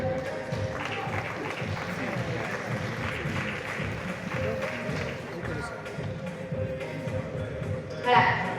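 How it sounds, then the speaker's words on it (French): Steady applause from an audience at an African series festival award ceremony in Senegal, dense and sustained throughout, with some cheering voices mixed in and a brief louder swell near the end. "Merci de l'applaudir."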